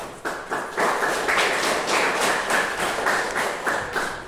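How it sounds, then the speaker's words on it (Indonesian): Classmates applauding a fellow student in a classroom, steady rhythmic clapping from a small group, close and fairly loud, lasting a few seconds. "Kita beri aplaus buat teman"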